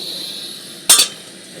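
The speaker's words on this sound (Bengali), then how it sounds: "কড়াই বসাচ্ছি" A single metallic clank as a wok is set down on the stove, over a steady background hiss.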